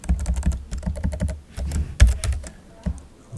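Rapid clicking from a computer mouse and keyboard during software work, a dense run of sharp close taps with brief pauses, loud and alone without talk.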